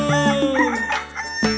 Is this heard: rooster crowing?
yes